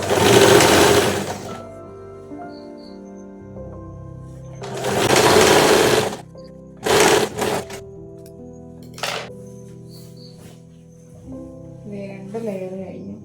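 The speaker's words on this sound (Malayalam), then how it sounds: "രണ്ടാമത്തെ ലെയർ സ്റ്റിച്ച് ചെയ്യാം കേട്ടോ." A sewing machine stitches a pleated curtain layer in several separate whirring runs, loud and close, with quiet pauses between bursts and a couple of shorter stitching spurts near the end.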